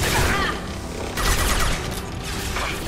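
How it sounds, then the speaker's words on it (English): Enemy weapons fire in a Mass Effect firefight, a loud, sustained barrage of overlapping shots and impacts that surges in waves. "They're shooting at us."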